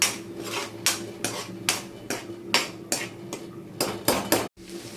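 Curry leaves being stirred in a pan for a crab fry, with a series of sharp metallic clanks and scrapes of a utensil against the pan in an irregular rhythm, close and fairly loud with no talk.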